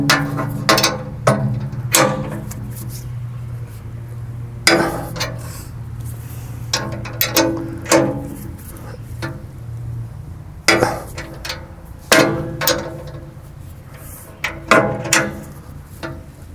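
A ratchet wrench tightens nuts on a Piranha tooth bar bolted to a bucket, giving repeated bursts of sharp metallic clicking with short pauses between strokes, close and clear with no talking.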